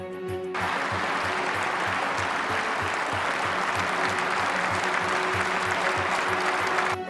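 A hall audience at a Putin speech claps in unison, loud rhythmic synchronized applause with a steady regular beat that starts abruptly and continues for several seconds.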